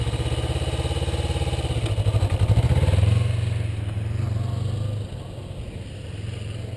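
A motorcycle engine, a Ninja, rumbling close by and rising in revs as the clutch is eased out, then settling back to a steadier, lower drone.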